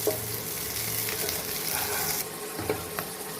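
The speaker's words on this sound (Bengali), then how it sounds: "এই পেঁপেগুলো ভেজে নেব" Papaya pieces frying in oil hiss as a dense, continuous sizzle up close, with faint scraping; no one speaks.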